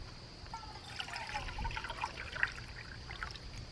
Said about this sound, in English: I'm gonna go ahead and put 2 cups of that water in